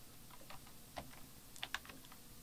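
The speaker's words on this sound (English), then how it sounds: "hit the return key a few times on my keyboard to give myself some more space" A computer keyboard tapped in a short burst of close, light keystrokes, a few quick clicks grouped near the end, quiet and without any voice.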